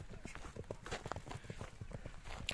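A horse's hooves trotting on the ground, a quick irregular run of close clip-clop beats, with someone talking over them.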